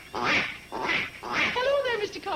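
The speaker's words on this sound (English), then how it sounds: "Beautiful duck call." A duck call blown in a sitcom scene, giving three loud raspy quacks in a steady rhythm followed by a wavering drawn-out call, close and clear with no talk over it.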